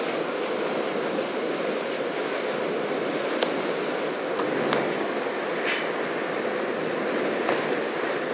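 Steady ocean waves and wind at open sea wash continuously, a constant broad rushing sound with no breaks and no talking.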